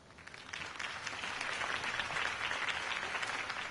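Crowd applause following Harvey Dent's campaign speech in the video game Batman: The Telltale Series, a dense, steady wash of clapping from a large audience, swelling in at the start and holding evenly throughout.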